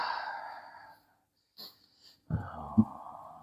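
Laboured, wheezing breaths during a traditional healing session: a long strained exhale, a pause of near silence, a faint catch, then a harsher, louder rasping breath close to the listener, with no speech.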